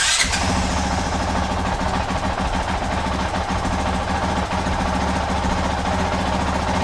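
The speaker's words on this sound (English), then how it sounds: "let's see if the 450X exhaust is any louder or the same, maybe quieter" A Honda CRF450RL motorcycle fitted with a 450X exhaust runs steadily at idle, a loud, continuous close-up engine drone with a brief starting burst at the outset and no talking.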